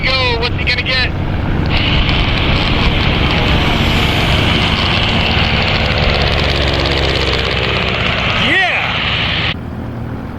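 A Skywagon light airplane flies a low pass over a Nevada playa, its piston engine droning loud and close with a rising then falling pitch, wind buffeting the microphone throughout.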